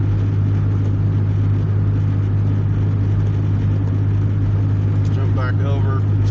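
A car cruises on an Oklahoma highway past 70 mph, with a constant low engine drone and road rumble filling the cabin; brief squeaky interior sounds come near the end.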